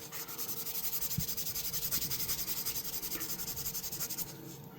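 Heavy-grit sandpaper rubs over the bolsters of a Schrade Copenhagen pocket knife in quick, even back-and-forth strokes, a steady rhythmic rasp close by that stops just before the end.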